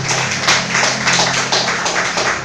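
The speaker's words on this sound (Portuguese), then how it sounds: "Você pode aplaudir a Deus por essa palavra?" A church congregation applauding God after a sermon, dense continuous clapping with individual hand strikes audible over a low hum, steady and fairly loud throughout.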